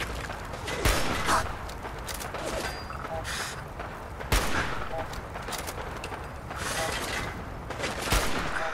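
Gunfire in Fallout 4, several sharp loud single shots spaced a few seconds apart, each followed by mechanical clicks and reload-like rattles over a low ambient game background.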